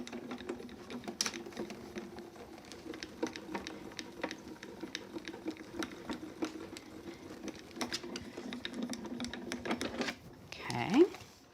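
Paper being embossed as it is cranked through a die-cutting machine, a steady close mechanical rolling hum with light ticking for about ten seconds, ending with a short squeak.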